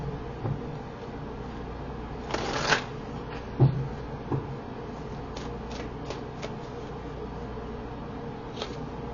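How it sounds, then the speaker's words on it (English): Tarot cards are shuffled close by in quick riffling bursts and soft slaps, with a louder flurry early on and fainter shuffles after. "Let me pull 3 cards here on advice."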